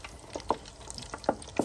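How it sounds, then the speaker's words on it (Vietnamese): Chicken feet fry in a pan at home with a steady close sizzle, while a few sharp clicks and scrapes of stirring land at irregular intervals. "Vợ tôi chiên chân gà đó."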